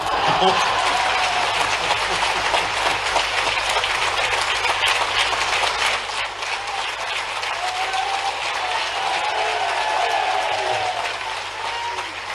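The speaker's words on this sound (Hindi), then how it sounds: "आपने नहीं मिलने के लिए ताली बजे के" Sustained applause from a large audience at a state chief minister's conference in Madhya Pradesh, dense and steady throughout, easing slightly in the second half.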